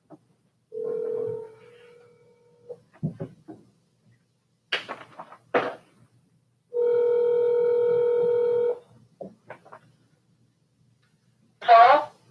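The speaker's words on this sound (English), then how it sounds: "We get Tip on the phone really quick" A phone call is placed during a city council meeting: a steady tone sounds, then a long run of dialing tones, with a few brief voices between them in a quiet room.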